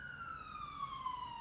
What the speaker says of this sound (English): And sirens are going off,